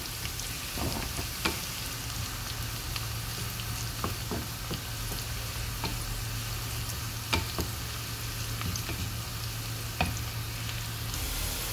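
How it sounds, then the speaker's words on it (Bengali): Cumin seeds frying in a pan of hot oil during home cooking of dal, a steady crackling sizzle throughout with occasional sharper pops and spoon clicks, no talking. "জিরাটা এটার সাথে ভেজে নিব।"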